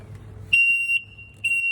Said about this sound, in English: I'm gonna show you how to locate this annoying backup alarm.